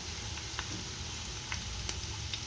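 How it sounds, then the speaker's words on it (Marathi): Onion fries in oil in a pan, being browned until crisp, giving a steady close sizzling hiss with a few faint crackles and pops throughout. "चांगला खरपूस भाजून घ्यायचा कांदा"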